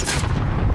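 Gunfire in the video game Warzone on Rebirth Island, a dense burst of loud, rapid shots and heavy booms crowding together in under a second, with no talk over it.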